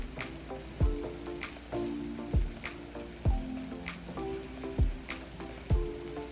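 Sliced apples with butter, cinnamon and brown sugar sizzle steadily on a griddle, a constant frying crackle broken by regular dull thumps of stirring, with no talk.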